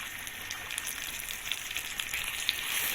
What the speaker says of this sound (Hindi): इसको हम लो फ्लेम पे फ्राई करेंगे।